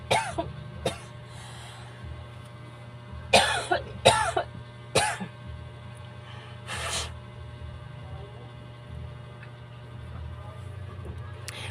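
Repeated coughs from a person with an itchy throat come in short bursts, close and fairly loud, spaced across several seconds, then a quieter throat noise before a steady low hum.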